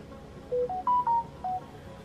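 A phone sounds a quick melodic ring: five short electronic tones rising and falling in pitch, clear and close over a quiet room.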